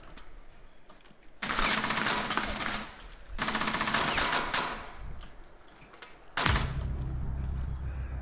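Gunfire in the video game Rainbow Six Siege: loud, close bursts of rapid automatic fire in three separate volleys separated by brief quieter gaps, with no talking.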